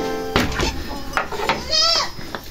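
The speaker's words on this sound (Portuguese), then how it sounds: "Cheguei agora no exato momento em que a ovelha tá parindo" A ewe bleats while giving birth to a lamb, a few short strained cries close by, mixed with rustling and light clinking.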